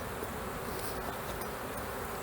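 A swarm of honey bees caught with a bee vacuum drones in a dense, steady buzz, close and continuous with no voices.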